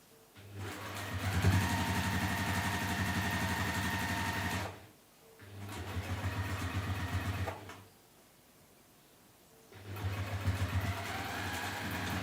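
A sewing machine topstitches a handled bag in three sustained runs of close, humming, motor-like whirring. Short silent gaps separate the runs, and no one talks.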